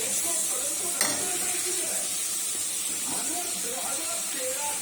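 Okra is stirred into a pan of fried spice masala made with ground cumin, chilli paste and amchur powder, giving a steady close sizzle with soft scraping and one sharp clink near the start.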